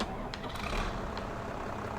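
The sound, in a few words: tractor engine in video game Farming Simulator 22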